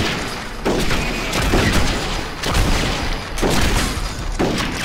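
Gunfire from the video game Red Dead Revolver, loud booming shots arriving in several bursts roughly a second or so apart, each a sharp broadband blast that fades before the next, with no talking over it.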